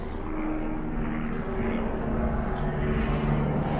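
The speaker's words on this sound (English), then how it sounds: "with that helicopter overhead, just for a change" A helicopter passes overhead in Chelsea, London, as a steady low rotor and engine drone that stays moderately loud and continuous throughout, with no voices.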